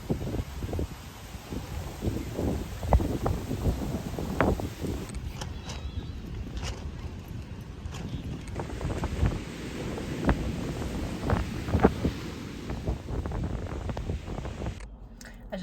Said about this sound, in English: it was just so windy